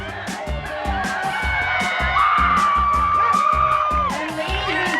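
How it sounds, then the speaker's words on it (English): A live outdoor crowd at the Western Canada's Strongest Man strongman competition cheers, whoops and shouts continuously and loudly, with a whistle-like tone held over the roar as the winning rock lift is celebrated. "the crowd went wild as Colton lifted his rocks and took the title of Western Canada's Strongest Man"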